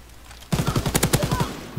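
Machine gun fire in Call of Duty: WWII: a fast, steady burst of about a dozen loud, closely spaced shots.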